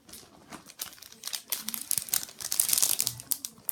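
Plastic packaging crinkles and rustles close up, dense and continuous with sharp crackling bursts, as a clothing haul item is opened by hand, with no talk over it.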